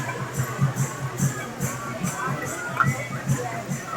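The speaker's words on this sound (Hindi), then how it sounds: "और इतनी ज़्यादा भीड़ है मंदिर में आज" Busy crowd at Mahakal temple in Himachal during a fair, a dense murmur of many voices with occasional louder calls, steady and close all around.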